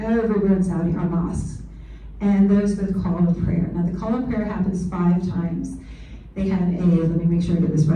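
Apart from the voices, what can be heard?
No distinct noise like a dog, phone or traffic.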